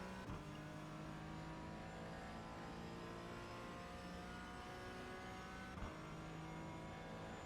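A Porsche 718 GT4 race car in iRacing accelerates at night down the straight at Road Atlanta, its engine a steady, sustained drone with a brief gear-change break near the start and another late on, with no talk.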